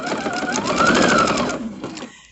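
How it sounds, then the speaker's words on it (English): A sewing machine stitches a straight quarter-inch seam through quilt fabric, a rapid rhythmic whirring that swells, holds steady, then slows and fades as it stops. "I'm just going to put this in and take my 1/4-inch seam, sew it nice and straight."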